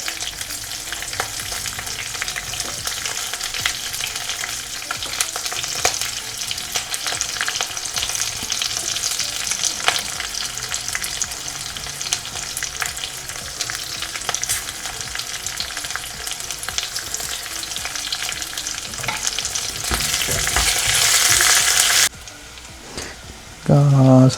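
Garlic sizzling and frying in a hot pan during home cooking, a steady dense crackle throughout with occasional stirring, ending in a brief louder burst.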